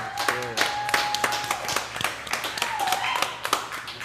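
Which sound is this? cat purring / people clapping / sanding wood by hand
people clapping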